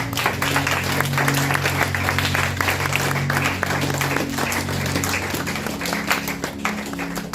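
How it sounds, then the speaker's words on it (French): A church congregation applauds and cheers in praise, steady dense clapping mixed with crowd voices and sustained tones underneath, loud and continuous for the whole stretch. "On va acclamer le Seigneur."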